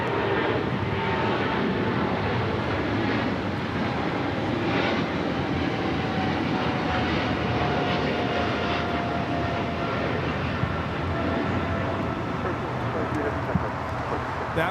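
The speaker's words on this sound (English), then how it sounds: "That was the Cargo King taking off to Shanghai." Cargo King cargo plane taking off from an LAX runway, a broad steady engine roar holding loud through the whole stretch, with a faint rising whine and voices talking over it.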